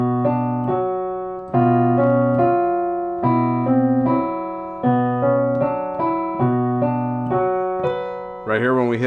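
Solo piano plays In the Hall of the Mountain King, with repeated struck notes and chords in a steady, stepping rhythm. The playing is close and clear, and no one speaks over it.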